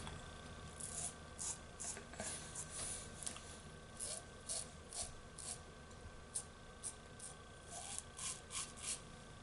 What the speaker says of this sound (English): we're gonna go for the first pass with the grain,